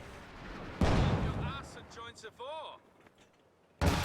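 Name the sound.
infantry support gun firing in video game Company of Heroes 2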